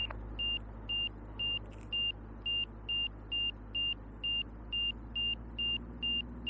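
Angle of attack indicator tones in an RV-4 cockpit during a landing approach, a steady series of short, evenly spaced high beeps, about two per second, over a constant low engine drone.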